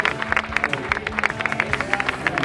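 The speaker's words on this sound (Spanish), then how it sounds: "Vamos también a darle un fuerte aplauso para el juvenil del Club Deportivo Unión Visuela, José Juan" A crowd claps steadily at a sports club's youth team presentation, dense applause with many overlapping hand claps filling the space, a few voices murmuring underneath.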